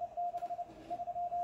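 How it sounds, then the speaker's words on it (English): Morse code CW from the Russian M12 spy station, received on a Tecsun H-501X, Tecsun PL-330 and SDRplay: a steady keyed tone pulsing in dots and dashes over faint radio hiss. "that same Morse code signal. And here it is received."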